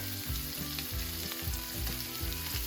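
Shrimp searing in a hot pan for spicy shrimp tacos, a steady close sizzle with rhythmic scraping stirs cutting through.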